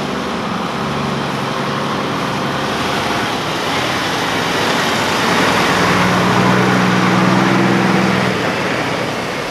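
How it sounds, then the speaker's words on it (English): A snow removal truck's engine drones loud and steady, a broad rumbling roar that swells slightly as the truck approaches during snow clearing in Milton, with no talk. "here comes another truck in now."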